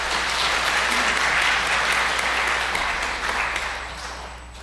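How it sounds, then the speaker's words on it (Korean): A Catholic parish congregation at Sunday Mass applauds steadily as a guest is welcomed, a dense wash of clapping that holds strong for several seconds and then thins and fades toward the end. "박수로 맞으시겠습니다."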